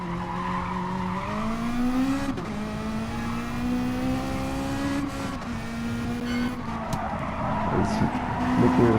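A race car in an Asian Super Saloons feature race skids off into a gravel trap. Its steady engine drone shifts pitch over a long tire skid and gravelly scrubbing, loud and close.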